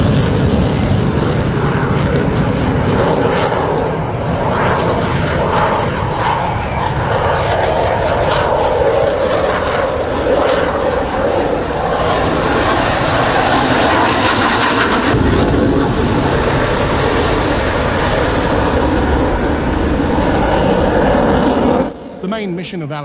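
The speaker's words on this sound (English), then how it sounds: "Here we see the first one, the C-15, known elsewhere as the F-18 Hornet." An EF-18 Hornet fighter jet of the Spanish Air Force flying at the Torre del Mar airshow in 2024, a loud continuous jet roar that swells and sweeps past before cutting off near the end, with a voice talking over it.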